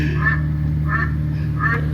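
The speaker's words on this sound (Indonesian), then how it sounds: "Sama bisa suara ayam." A car's OBD plug-in gadget plays a chicken sound effect through a speaker, three short squawking clucks about every 0.7 seconds over a steady engine hum, fairly close.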